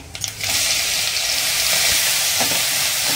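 Green chili, garlic and ginger masala sautéing in a pan for a bread roll filling, a loud, steady close sizzle after a brief clatter at the start, with no voices.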